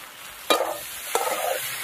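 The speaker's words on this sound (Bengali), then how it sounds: "পেঁয়াজ আলু টমেটো আদা রসুন সব একসাথে একটু কষিয়ে নেব।" Potato, onion, tomato and ginger-garlic paste sauté in a hot pan, with two distinct spatula scrapes over a steady sizzle, close and fairly quiet.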